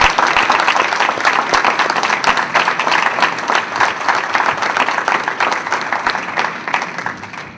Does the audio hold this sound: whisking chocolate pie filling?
no